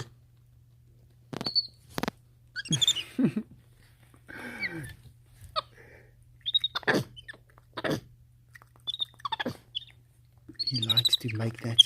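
A pet monkey makes short, sharp chirping mouth sounds in scattered bursts, close and fairly loud, separated by silence, with brief speech in between.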